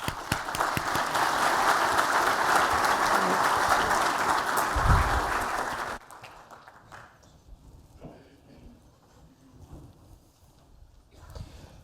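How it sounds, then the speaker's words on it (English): Audience applause at a conference keynote, a loud sustained round of clapping from a large crowd lasting about six seconds, then cutting off to quiet room tone. "So please do give him a warm round of applause"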